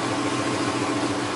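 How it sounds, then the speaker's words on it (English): A car engine idling close by, a steady mid-low rumbling drone with even pulsing texture throughout, no voices. "Hope y'all can hear me over the car."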